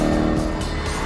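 A Jaguar XE SV Project 8, its roughly ten-year-old engine making nearly 600 horsepower, roars loudly and close in a short burst, with a hint of tyre squeal.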